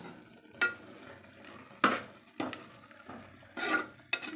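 Garam masala being stirred into a rice dish in a pan, heard as a few distinct scraping, clattering strokes of a spoon at irregular intervals over a soft background sizzle, close and moderately loud.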